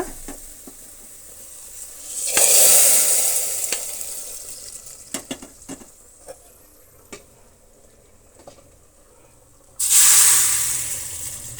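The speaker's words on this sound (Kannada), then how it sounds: "ಯಾಕಂದರೆ ಸಿಡಿಯುತ್ತೆ ನಾವು ಒಗ್ಗರಣೆ ಸೇರಿಸುವಾಗ" Two loud bursts of hissing and spluttering as hot tempering hits sambar made with dal, chickpeas and drumstick, separated by clinks and light stirring.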